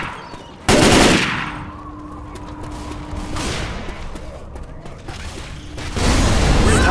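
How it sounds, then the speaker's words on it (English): A grenade launcher fires in the game Left 4 Dead 2 with a loud sudden blast, followed by a sustained rumbling roar and mechanical clatter. A second loud burst comes near the end. "I have a grenade launcher."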